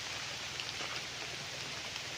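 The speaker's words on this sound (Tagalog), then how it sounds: "Naulan lang po tayo ngayon mga kapraps kaya ayan o, lakas ng ulan." Heavy rain pouring steadily on a roadside farm lot in Liliw, Laguna, a dense, even hiss of drops on surfaces with no voices during the stretch.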